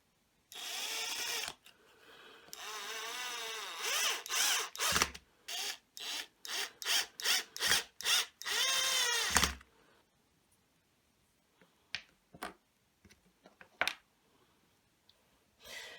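Screws are driven into the housing of a homemade USB soldering iron in quick powered bursts, one longer run and then a rapid series of short pulses, followed by faint scattered clicks.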